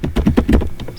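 Typing on a computer keyboard, a quick run of about eight crisp key taps in an even rhythm, close and clear with no talk.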